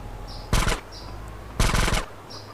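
Two short bursts of rapid automatic gunfire in a Thai video game, loud and close, separated by about a second of quieter ambient hum.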